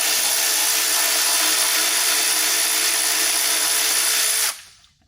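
A power tool, likely a drill or impact driver, spins out the final bolt on a Toyota Matrix throttle body, a loud steady whine running for about four and a half seconds before cutting off abruptly.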